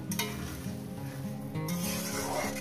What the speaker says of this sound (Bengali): 2 থেকে 3 মিনিট এটা আমি কষিয়ে নেব মিডিয়াম গ্যাসে